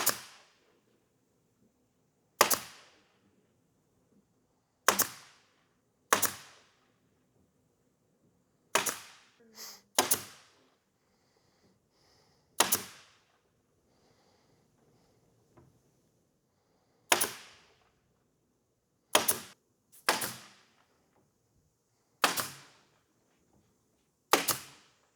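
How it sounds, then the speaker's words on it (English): A brad nailer fires nails into a ready-to-assemble corner sink base cabinet, about a dozen sharp, crisp snaps spaced irregularly a second or more apart against near silence. "we're going to use our brad nailer to shoot it off"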